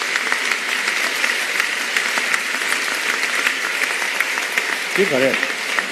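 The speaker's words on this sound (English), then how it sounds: "a warm round of applause for these first insights of the Dalai Lama" An audience at a talk with the Dalai Lama on universal human values and education breaks into a warm round of applause, a steady, fairly distant wash of clapping that persists throughout, with a brief voice near the end.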